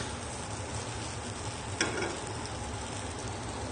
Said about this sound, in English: the idea is to get a little bit of caramelization on the outside of that gnocchi